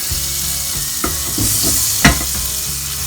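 Banana oatmeal pancake batter fries in melted butter in a pan, producing a loud, steady close sizzle with a couple of sharper crackles partway through and no talking.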